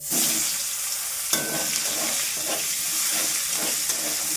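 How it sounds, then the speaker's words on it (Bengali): Chopped onions sizzle and hiss in hot oil with cloves and cardamom, a steady close frying crackle with occasional stirring scrapes. "সব কিছু ভাজা ভাজা করে নিয়ে দিয়ে দেবো পেঁয়াজ কুচি"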